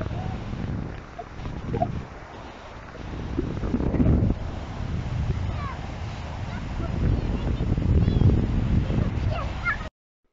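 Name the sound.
strong wind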